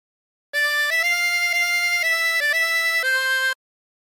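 A 24-hole tremolo harmonica plays a phrase of Oh My Darling Clementine. Its bright, wavering reedy tones come in a short run of held notes, close and alone with no talking.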